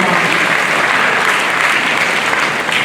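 Audience applause at a graduation ceremony, dense sustained clapping from a large crowd filling the hall evenly, loud and continuous without voices over it.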